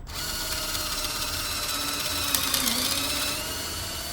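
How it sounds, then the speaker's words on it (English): A power drill bores a pocket hole through a Kreg jig, one continuous high whine close up that holds steady for several seconds and then slows slightly near the end. "I'm just going to grip one of these and drill a hole that I need"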